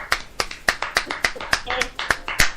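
Hands clap in a steady, brisk rhythm of about a dozen sharp claps, close and fairly loud, with a voice talking alongside.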